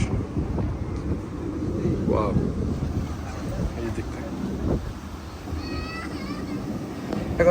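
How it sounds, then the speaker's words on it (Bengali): Steady gusting wind buffets the microphone in low rumbling bursts at Lotus Tower in Sri Lanka, with open water and distant voices faintly underneath. "তো প্রচন্ড বাতাস"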